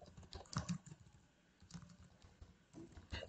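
Keys tapped on a computer keyboard while entering text into a PowerPoint text box, quiet, irregular clicks in short bursts with pauses, close by and alone.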